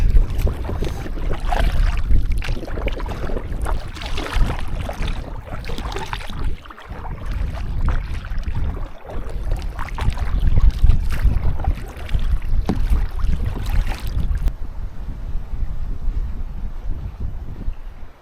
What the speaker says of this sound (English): So the wind is blowing very hard right now